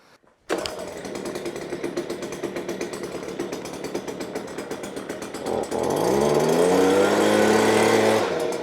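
A modest handheld leaf blower runs steadily with a buzzing, rattling motor drone at close range, then revs higher and smoother for its last few seconds on a homestead.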